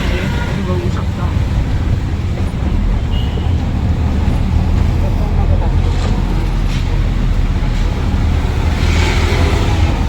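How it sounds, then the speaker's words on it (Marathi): Riding inside an auto rickshaw through city traffic, a loud continuous engine drone and road rumble with wind buffeting throughout, someone speaking over the noise. "आता मी रिक्षामध्ये बसलेलो आहे"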